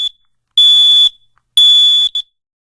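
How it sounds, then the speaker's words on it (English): Residential smoke alarm blaring its piercing test tone after the test button is pushed: two long loud bursts, then a short final blip, with silence in between. "Test all your smoke alarms at least once a month by pushing the test button like this"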